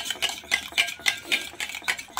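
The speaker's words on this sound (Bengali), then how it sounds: "আমি একটু ফেটিয়ে নিচ্ছি।" A whisk beats chocolate cake batter with oil and sugar in a bowl, making quick, evenly spaced clinks and swishes, close and fairly quiet, with no talk.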